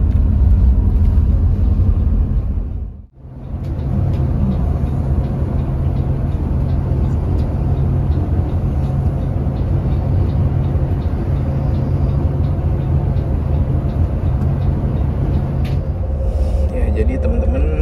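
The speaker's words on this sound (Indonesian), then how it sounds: "Mantap, sambil menikmati sleeper bus lonjoran." A steady, loud low rumble fills the interior of a Sinar Jaya 38DD sleeper bus driving from Jakarta toward Palembang, with road and engine drone continuing throughout apart from one brief dip, along with faint rattles and occasional cabin noise.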